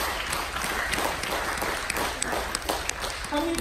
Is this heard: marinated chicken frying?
no